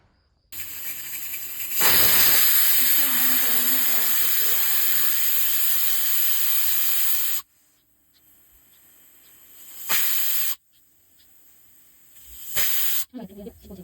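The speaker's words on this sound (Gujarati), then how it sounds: "2 વાટકી જેટલું પાણી નાખીને કુકર હું બંધ કરી દઉં છું." A pressure cooker holding barnyard millet and water releases a loud, continuous steam hiss for about seven seconds, then falls quiet before two shorter bursts of hissing follow.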